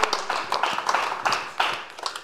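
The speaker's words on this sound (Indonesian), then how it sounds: "Tepuk tangan buat Bunda Sarwenda." Audience applause for Sarwendah at a comedy roast show, a burst of dense, uneven clapping that swells and fades in waves, with sharper hand taps standing out close by.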